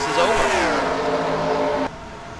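Stock cars racing in a NASCAR-style video game at Homestead Miami, a loud, close engine drone whose pitch slides downward before cutting off abruptly into quieter background noise.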